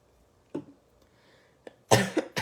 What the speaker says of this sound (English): I have like this residual cough from bronchitis